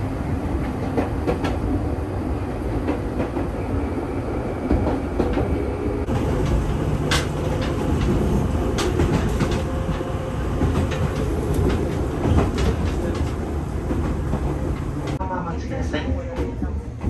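The Fuji Excursion limited express train rumbles past close by, wheels clattering over rail joints in a steady rolling roar, with a few voices faintly underneath.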